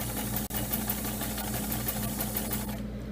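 A sewing machine stitching a trash bag runs steadily at close range, a fast continuous mechanical whir and rattle with one brief break near the start, then fading slightly at the end.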